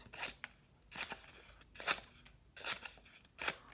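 Scissors snip through paper in a classroom as students practice cutting, giving about six crisp, separate snips at an irregular pace, close and fairly quiet.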